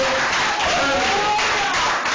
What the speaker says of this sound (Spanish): Eso fue un aplauso